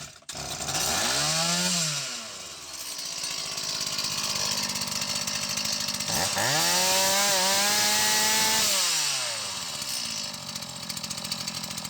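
A STIHL MS180 gasoline chainsaw with worn piston rings runs close up, idling then revving hard twice with rising and falling whines over a constant rough engine rattle, no voices.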